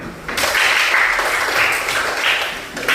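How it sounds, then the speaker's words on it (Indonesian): Group of people clapping hands for a class after hearing their scores, a steady dense patter of applause holding for the whole stretch at moderate loudness. "Bermain bagus, tepuk tangan semuanya."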